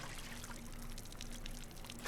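Watering can pouring water in RuneScape: Dragonwilds, a faint, steady trickling stream that runs for about two seconds without a break.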